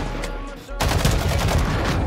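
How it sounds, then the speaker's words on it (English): An RPG fires in the video game Warzone, bursting in after a short muffled lull as a loud, roaring blast that keeps rumbling and crackling for over a second. "I shot him with the RPG"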